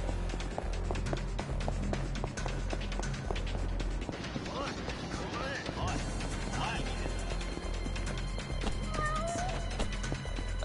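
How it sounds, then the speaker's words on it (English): A cat meows repeatedly in the video game Yakuza: Like a Dragon, short plaintive calls over busy street ambience and game sounds, with a person talking alongside. "Cat. I hear a cat."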